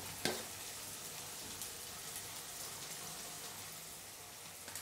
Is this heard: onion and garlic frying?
yes